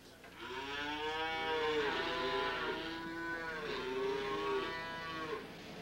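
A bull calf moos in long, drawn-out calls, several overlapping in succession, fairly close and clear with no talk over them.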